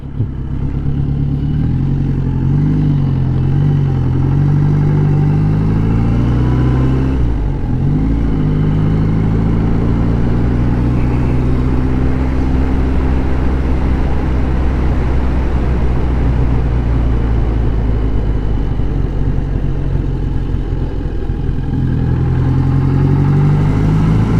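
A vintage British Ariel Square Four motorcycle being ridden: a loud, steady four-cylinder engine drone with wind rush, its pitch rising and falling briefly as the rider changes speed, continuous and close throughout.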